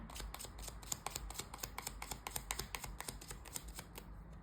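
Tarot cards are shuffled and drawn by hand, a quick run of crisp riffling slaps and flicks repeating steadily and close up, with no talking.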